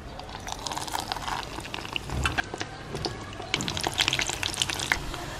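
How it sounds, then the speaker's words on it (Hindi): Batter-dipped cabbage roll pakoda deep frying in hot oil, a loud dense crackling sizzle with bursts of bubbling and occasional stirring clatter throughout. "इसको फ्राई करते हैं।"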